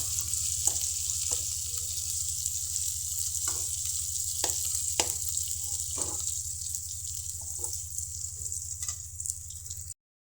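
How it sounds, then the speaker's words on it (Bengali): Potatoes for chops fry in a pan with a constant bright sizzling hiss over a low hum, with occasional soft scrapes and pops, heard close and continuous until it cuts off abruptly, with no one speaking. "আমি চপের আলুটা ভেজে নিচ্ছি, সুন্দর করে আমি চপের আলুটা ভেজে নিচ্ছি।"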